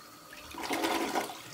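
A toilet flushing in a bathroom under industrial renovation, a short close rushing surge of water that swells and then tails off, heard alone without talk.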